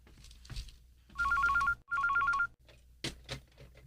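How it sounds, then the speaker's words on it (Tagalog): A telephone rings in a radio drama, two bursts of a trilling electronic bell separated by a short gap, with quiet voices and small noises before and after. "Ang telepono."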